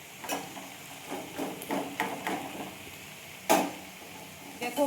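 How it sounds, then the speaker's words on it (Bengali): Ridge gourd curry cooks in a kadai, with a soft sizzle and repeated metallic clanks and scrapes of a spatula against the pan, one louder knock standing out midway. "এই যে আজকে ঝিঙের তরকারি চাপা করছি।"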